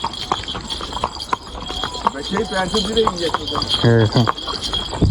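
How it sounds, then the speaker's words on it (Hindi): Hooves of a horse being ridden clip-clop in a steady rhythm close by, with a light jingle of tack, while people talk over them. "तो ये यहाँ पे घोड़े की राइड ले रहे हैं।"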